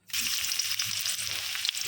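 Chopped onion hits hot oil in a pan for a Bengali chickpea dish, raising a loud, steady, close sizzle that runs unbroken with faint stirring crackles.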